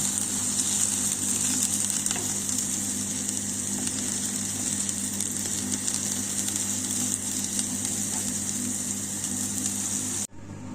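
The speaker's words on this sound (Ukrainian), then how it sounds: "І так, котлети наші печінкові печуться." Liver patties sizzle steadily in a hot pan, a constant close crackling hiss that continues without a break for several seconds.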